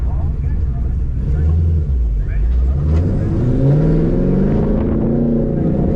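A built Chevrolet Camaro SS on a track day accelerates through a corner and into second gear, its engine note rising and shifting in a loud, continuous drone heard from inside the car while an instructor talks over it.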